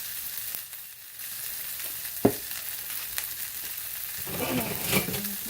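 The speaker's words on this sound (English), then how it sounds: "and kind of stir it all up. And I cook it, they say, about 7 minutes." Seasoned pork chops sizzling in a frying pan, a steady close crackle with a sharp utensil knock and stirring scrapes partway through, no talk.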